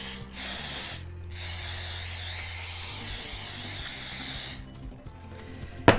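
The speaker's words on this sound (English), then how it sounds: "I'm going to go ahead and spray some olive oil on the top of it." Two short bursts of hissing olive oil spray from a spray bottle nozzle, each about a second, close and fairly loud, with a steady low hum filling the time between.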